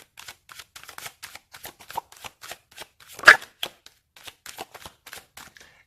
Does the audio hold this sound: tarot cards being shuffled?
yes